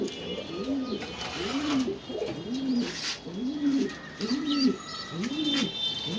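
Pigeons at a pigeon farm in Mirpur 13, including a pair of fantails, coo steadily in about six evenly spaced, throaty rolling phrases, close by, with faint chirps in the background and no talking.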